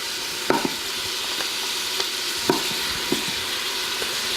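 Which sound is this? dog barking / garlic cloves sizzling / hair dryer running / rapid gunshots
garlic cloves sizzling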